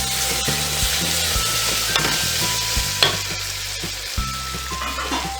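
Tomatoes and turmeric sizzle steadily in a hot pan while cooking a mushroom biryani, a continuous close frying hiss broken by occasional stirring scrapes and clicks.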